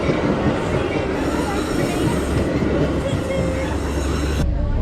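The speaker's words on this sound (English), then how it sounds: "Train's coming, we barely made it." A Chicago train pulls in with a loud, continuous rumble of wheels on rails and rattling cars under a high screech, then cuts off abruptly near the end.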